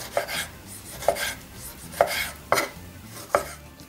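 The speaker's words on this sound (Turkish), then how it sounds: "Domatesleri de doğrama işlemi bitti." A knife chops tomatoes on a cutting board: five sharp, separate strikes at an uneven pace over a soft background hiss.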